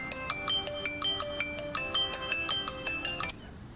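A phone ringtone plays a repeating bright electronic melody of short pulsed tones for about three seconds, then cuts off abruptly.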